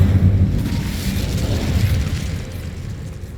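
A fire spell cast in Hogwarts Legacy gives a loud, deep whooshing roar of flame right at the start, then a rumbling burn that slowly fades.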